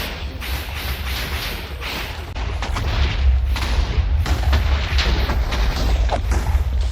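Deep booming blasts and crackling bursts from a Wither exploding in Minecraft, rolling and rumbling low and loud over several seconds with no pause.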